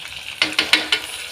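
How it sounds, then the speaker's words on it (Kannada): Vegetables for veg pulao sizzle in a pan, with four quick, close scrapes of a spatula over a steady frying hiss, with no voices. "ಸ್ವಲ್ಪ ಫ್ರೈ ಮಾಡ್ಕೊಂಡ್ರಿ ಹಿಂಗೆ 1-2 ನಿಮಿಷ"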